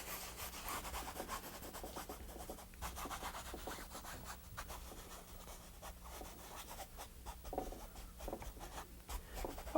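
A cloth rubs glaze over a painted flower picture: quiet, irregular scratching and rubbing strokes on the painted surface, repeated in short bursts throughout.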